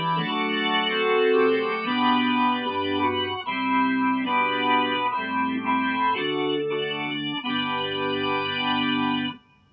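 Korg Kross keyboard organ patch playing improvised sustained chords, rich and steady, changing every second or so, close and loud, then cutting off abruptly near the end.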